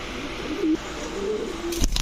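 Lahori pigeons, a cream-bar and a yellow, coo softly nearby in low, rolling calls, ending with a burst of fluttering wings.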